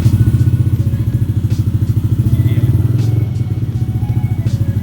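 A motorcycle engine idles and revs steadily up close with a rapid, even pulsing throb, running continuously and alone.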